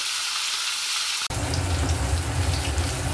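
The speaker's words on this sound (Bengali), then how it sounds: "আলুটা অল্প ভেজে নিই, তারপর আমি কুমড়োগুলো অ্যাড করব।" Potatoes hit hot oil in a pan for a Bengali-style pumpkin dish. After a quiet moment, a sudden loud, close sizzle starts and keeps crackling steadily.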